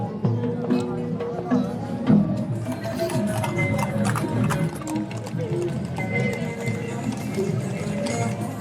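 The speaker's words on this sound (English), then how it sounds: "So tons of horse-drawn carriages here as well." Horse-drawn carriages clip-clopping through a busy Marrakesh square near the Koutoubia Mosque, hooves tapping steadily at a moderate distance under crowd babble and close talking.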